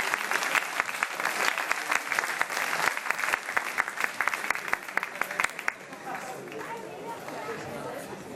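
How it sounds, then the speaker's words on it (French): An audience applauding steadily at a live event, a dense wash of many hands clapping that thins and softens toward the end, with faint crowd chatter underneath. "peut les applaudir"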